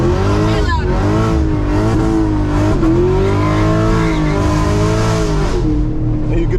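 A Camaro SS V8 in track mode roars loudly and continuously up close, its pitch climbing and dipping through several revs with a hint of tire squeal.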